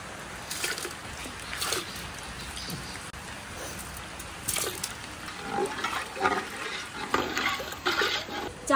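Rice for khichuri is tipped into a hot pot and fried while it is stirred, giving a steady low sizzle under repeated scraping and rustling strokes of the spoon that grow busier toward the end.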